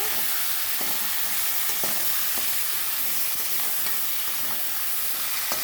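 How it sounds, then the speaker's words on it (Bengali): Fish fries in a pan as a spatula stirs it after the lid is lifted, with a dense, steady sizzle and light scraping taps from the spatula at an even pace. "এবার ঢাকনাটা তুলে একটু খুঁটির সাহায্যে নাড়াচড়া করে নেব"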